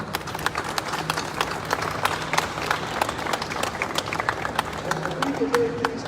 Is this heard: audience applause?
yes